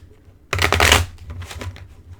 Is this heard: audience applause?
no